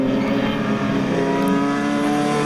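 Touring race cars at Buttonwillow Raceway in the 2020 US Touring Car Championship roar past together, a loud, steady engine drone with layered revving tones that holds unbroken throughout and has no voices over it.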